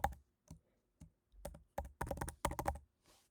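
Password typed on a computer keyboard, a run of crisp individual key clicks that start sparse and speed into a quick burst, close and clear with no talking.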